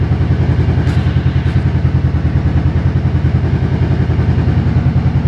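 A 1983 Yamaha Virago 750 Midnight Special idles close and loud, its V-twin engine producing a steady rapid pulsing chug that holds even throughout without revving.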